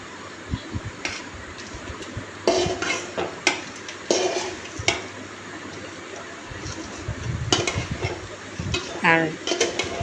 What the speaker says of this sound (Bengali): এখন আমি এই খুন্তির সাহায্যে ভালো করে নেড়ে চেড়ে মিশিয়ে নিব